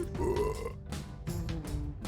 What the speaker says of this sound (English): Powerful burp.